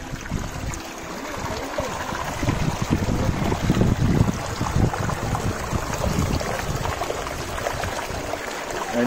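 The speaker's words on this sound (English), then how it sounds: "This is the eye or the source of this water or this stream." Water flows from the source of a sulphur spring stream at Ain Sahban near Sohar, Oman, a continuous close rushing and trickling that swells slightly midway, with no speech.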